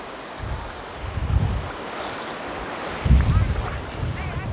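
Ocean waves roll in at Teran Beach with gusty wind buffeting the microphone, two heavier surges breaking amid constant rushing noise, no one speaking.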